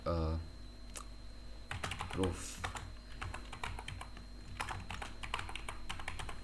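Keys clatter on a computer keyboard in irregular bursts of close taps, with a faint steady hum underneath and a brief voice at the start.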